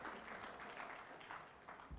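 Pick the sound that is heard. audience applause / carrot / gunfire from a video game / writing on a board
audience applause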